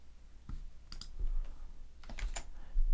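Keys on a computer keyboard pressed in a few separate clicks and short bursts, close and fairly quiet over a faint room hum, with no talking.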